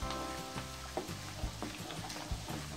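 Food frying in a pan for Indonesian spiced fried chicken with a nest of crispy egg, stirred with repeated scraping strokes over a steady close sizzle; no voices.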